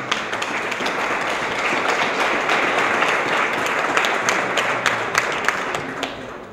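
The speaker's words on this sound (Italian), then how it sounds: "un grande applauso" An audience at a Peugeot rally programme presentation breaks into sustained applause, many hands clapping in a dense, even wash with sharper nearby claps standing out, fading slightly toward the end.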